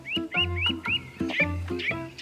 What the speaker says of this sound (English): What's gotten into you birds today? Are you gonna be that noisy for much longer?